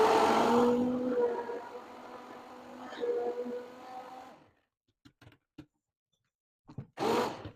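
A blender whirs loudly through gluten-free crêpe batter for about four seconds, its motor pitch wavering as it runs, then cuts off. A few faint knocks and a brief loud burst follow.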